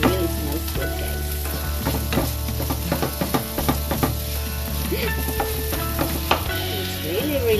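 Ground beef fries in a pan for a bean sprout stir fry, sizzling loudly and continuously while a utensil scrapes and clacks through it in quick irregular strokes, with no voices.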